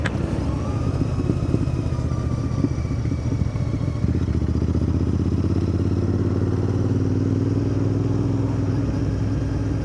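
A Royal Enfield Interceptor 650 motorcycle being ridden, its twin engine droning steadily and loudly with a gear change partway through, then a smoother rising hum.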